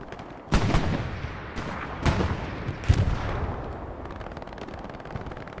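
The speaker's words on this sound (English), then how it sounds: "This is where the MG shine." Machine gun fire in a nighttime video game match on the Foy map, with tanks pushing: several loud, sharp bursts spaced a second or so apart over a constant rumbling battlefield din.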